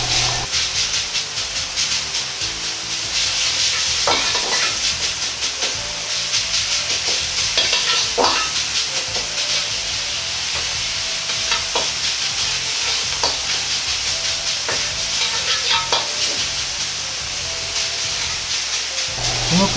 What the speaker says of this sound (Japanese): ひき肉を炒め、火を通していきます。